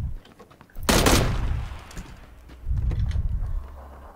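Gunfire in PlayerUnknown's Battlegrounds: a sharp loud shot bursts in around one second, then a lower rumbling volley follows near three seconds, with faint clatter between, no talk over it.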